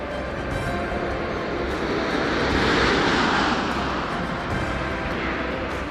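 Space Shuttle Atlantis touching down on its main gear on the final shuttle landing, a broad, steady roar of rushing air and noise building slightly toward the middle, heard from a distance.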